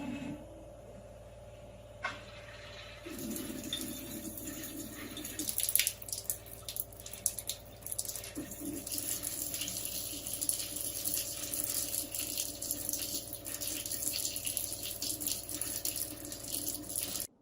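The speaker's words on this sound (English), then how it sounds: "turn on the water and let the filter run for 30 minutes straight to allow the filters to flush themselves fully" Water running through a Waterdrop reverse osmosis filter system in a kitchen, a steady trickle and drip with a faint hiss, preceded by a few clunks and rattles from the unit or cabinet.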